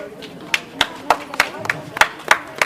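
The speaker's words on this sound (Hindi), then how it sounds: "जो तालियां बजा रहे हैं उनके लिए धन्यवाद" Audience at a one-day village women's sports event claps for the winners being honoured, a run of sharp, fairly regular claps that sound like a few nearby hands rather than a large crowd, with a voice faintly underneath.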